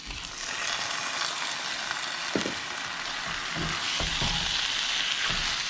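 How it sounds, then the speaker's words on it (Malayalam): Marinated chicken pieces, coated in turmeric and salt, frying in a coriander masala, with a steady loud sizzle and a few soft stirring knocks throughout, no voices. "മഞ്ഞൾപ്പൊടിയും ഉപ്പും ഇട്ട് മാരിനേറ്റ് ചെയ്ത് വെച്ചിരിക്കുന്ന ചിക്കൻ കഷ്ണങ്ങൾ ഇതിലേക്ക് ചേർത്ത് കൊടുക്കുക."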